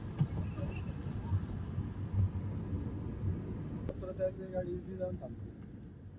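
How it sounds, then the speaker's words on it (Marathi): Steady low road rumble and traffic noise heard from inside a moving car in heavy traffic on a Konkan road in Maharashtra, continuous and fairly loud, with voices talking over it. "बहुत ज्यादा ट्रैफिक हो गया है"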